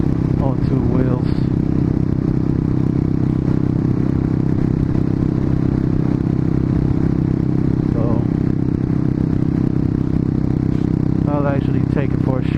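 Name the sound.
Harley-Davidson motorcycle riding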